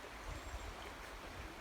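A river stream flows through the woods with a steady, soft wash of running water, faint and continuous, and no voices.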